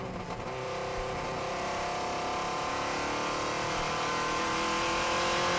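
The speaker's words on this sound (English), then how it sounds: "You're on board with Armstrong now, up towards McLean's corner, through the right-hander" Onboard a vintage racing car as the driver powers up towards McLean's corner and through a right-hander, its engine droning loud and steady with a rising pitch and a dense harmonic whine throughout.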